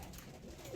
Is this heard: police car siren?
no